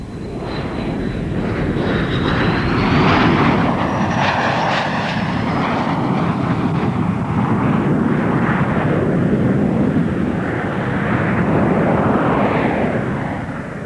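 An F-16 fighter jet flies past at a 1992 Portland Rose Festival airshow, its loud continuous jet roar swelling and holding steady for the whole span, with a high whine sliding through early on and no talk.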